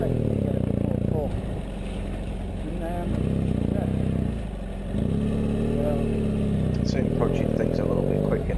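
BMW F800 GS motorcycle engine pulling steadily in second gear during off-road riding practice, a loud continuous drone that rises and dips with throttle, with someone talking over it.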